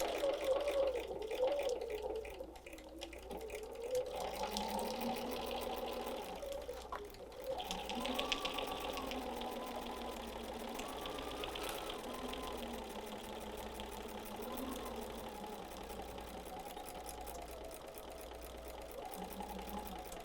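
Sewing machine stitching cotton fabric pieces together while making a folded fabric wreath, a steady continuous whir with rhythmic needle pulsing running throughout, close and fairly loud with no talking.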